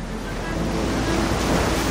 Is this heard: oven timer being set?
no